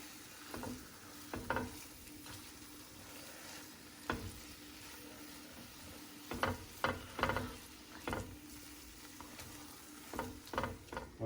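Spicy Jamaican beef patty filling sizzles quietly in a pan, with a steady low fry punctuated by irregular sharp clicks and taps of a spoon stirring, faint and close.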